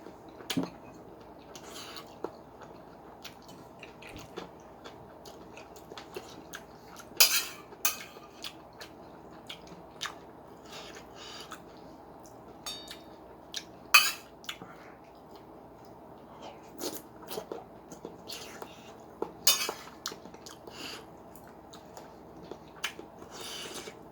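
Ramen being eaten with cutlery alongside dumplings, with soft clinks of utensils against a bowl and faint slurping and chewing scattered irregularly through a quiet room.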